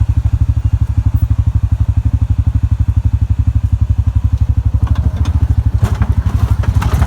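Massimo/Hisun 700 UTV engine driving on a steep hill, a loud, close, rapid thumping engine pulse that stays steady throughout, with some clatter and rattling toward the end.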